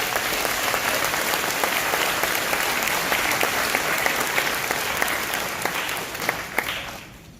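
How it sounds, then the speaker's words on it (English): Audience applause at a National Junior Honor Society induction ceremony: dense, sustained clapping from a crowd at steady loudness, tapering off toward the end. "Please join me in a round of applause for these people"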